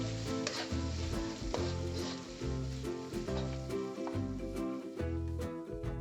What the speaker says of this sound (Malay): Bila cili dan bawang sudah masak seperti ini, masukkan daging. Kacau, jangan tak kacau.